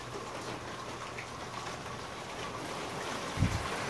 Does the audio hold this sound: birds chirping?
no